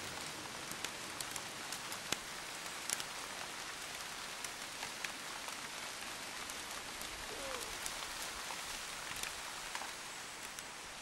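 A sudden downpour falls on an owl nesting site on a farm, a dense steady hiss of rain with scattered distinct drops pattering on nearby surfaces, soft and even throughout.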